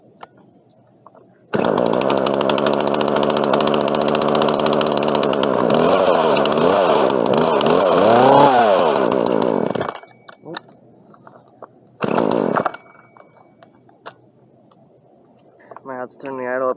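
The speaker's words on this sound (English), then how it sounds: "This saw does start relatively easy since I tuned it, so let's see if it'll start easily this time." A Poulan P3314 chainsaw starts and runs. Its loud engine roars steadily for several seconds with revving swells, cuts off, then fires briefly again before dropping to quiet.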